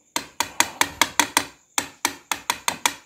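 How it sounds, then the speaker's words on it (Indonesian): Hammer tapping on a Miyako electric fan during repair: about a dozen sharp metallic knocks in two quick rhythmic bursts with a short pause between, close and fairly loud, no talking. "Kita ketok menggunakan palu."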